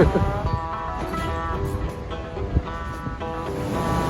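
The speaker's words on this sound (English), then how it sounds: "it's really windy." Strong wind roars and buffets steadily against the microphone, with a constant rumbling rush and faint tonal hum underneath.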